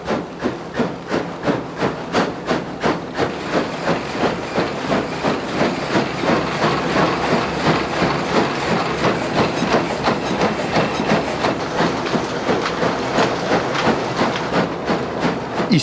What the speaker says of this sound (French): Ici, c'est une vieille machine à vapeur qui donne le rythme, mais qui assourdit